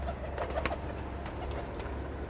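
Soft cooing of a Teddy pigeon in short bursts over a steady low background hum, fairly distant and faint.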